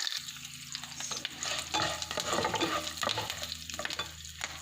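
Fresh curry leaves, hing and spices for lemon poha stirred in a hot pan, a close crackling sizzle with scraping stir strokes, loud and continuous.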